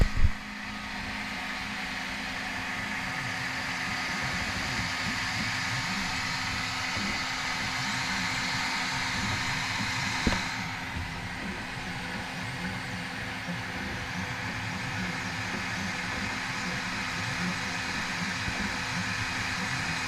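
A laser engraver working on an axe handle gives off a steady, even mechanical hum with fan-like whir, constant and moderately loud throughout, with a brief click near the start and another midway.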